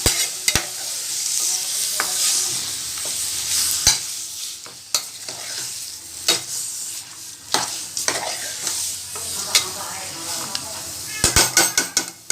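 Mutton masala mixture being stirred in a pan, with repeated scraping and clinking strokes over a steady frying sizzle, close and moderately loud, with sharper clatters near the end.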